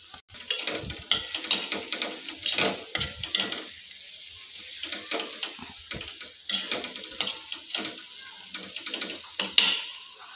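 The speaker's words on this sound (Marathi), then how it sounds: "आता तेलावरती व्यवस्थित परतून घ्या" Tomato chutney with red chilli powder and a little sugar sizzles in oil in a kadhai while being stirred: rhythmic, close scraping strokes over a continuous frying hiss, repeating every half second or so.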